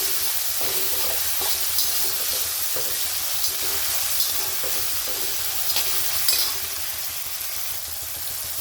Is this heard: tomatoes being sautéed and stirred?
yes